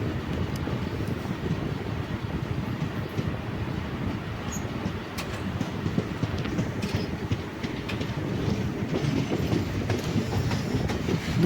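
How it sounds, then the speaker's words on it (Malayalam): A goods train rumbles past some way off, a steady broadband roar with faint clickety-clack of wheels running on without pause and no voices. "അത് ഗുഡ്സ് ട്രെയിനാണ് കേട്ടോ."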